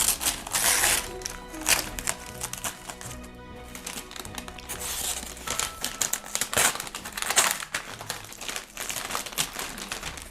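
Wrapping paper is torn and crumpled off a shipped cardboard box, loud close bursts of crinkling and rustling in uneven waves.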